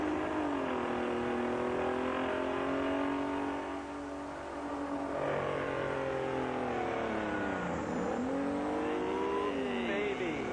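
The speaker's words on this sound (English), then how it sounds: "this is a big old 74 Kenworth. 74 Kenworth with V12 Detroit power" A 1974 Kenworth truck with a V12 Detroit engine pulls at a tractor pull, its engine wailing and shifting pitch in long rising and falling sweeps, loud and continuous, with an announcer talking over it at times.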